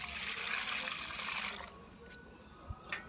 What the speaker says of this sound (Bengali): ছোট ছোট বালতি করে জলটা দিই, বড় বালতিতে ছেড়ে দিই